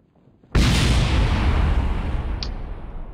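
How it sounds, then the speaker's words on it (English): A spacecraft engine or fuel tank blows up in a spaceflight video game, a sudden loud blast that lingers as a long, broad rumbling roar with a brief faint high tone near the end. "That explosion was probably your engine or fuel tank."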